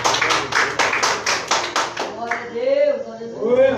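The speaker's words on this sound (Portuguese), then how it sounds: "bate palmas e dá glória a Deus" A church congregation claps their hands in quick, steady, close strokes for about two seconds, then the clapping stops and a voice speaks alone.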